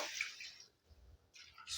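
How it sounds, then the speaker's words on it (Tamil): Water is poured into a pan of country chicken curry masala in two short splashing bursts separated by a quiet pause. The pours are soft and close. "அதுக்கப்புறம் வந்து தண்ணி ஊற்றணும். தண்ணியை ஊற்றி விடுங்க."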